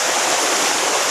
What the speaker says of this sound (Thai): ล้างน้ำก่อน